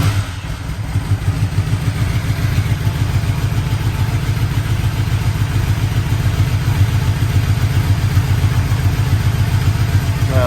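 Motorcycle engine running after being started, a loud, close, steady low rumble with a rapid clattering pulse that holds through the whole stretch.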